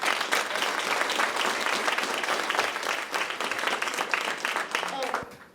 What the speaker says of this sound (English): let's give these girls a round of applause